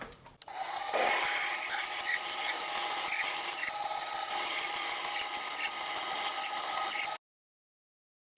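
A continuous, loud grinding 7.8mm drill bores into a metal casting for several seconds with a slight dip midway, then cuts off abruptly into silence.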